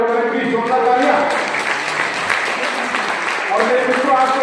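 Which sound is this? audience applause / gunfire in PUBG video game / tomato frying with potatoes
audience applause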